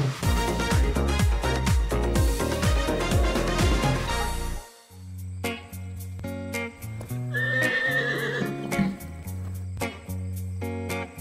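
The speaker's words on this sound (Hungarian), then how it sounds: "Ugrabugráló néhány napos kis csikók" Lipizzaner horses and days-old foals neighing at a stud farm, with loud whinnies and some hoof clip-clop over a full musical backing that drops briefly midway.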